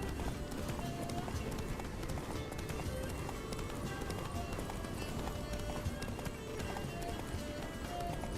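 Hooves of a horse galloping in The Witcher 3 video game, a fast continuous clip-clop under game sound, fairly quiet and steady throughout.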